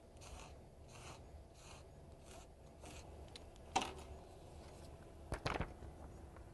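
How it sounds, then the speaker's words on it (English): Squeegee straight edge scraping excess emulsion off a heat transfer sheet, a few faint soft scrapes, with two sharper scraping strokes toward the end. "take a straight edge, like a squeegee, and gently scrape off those areas of excess emulsion"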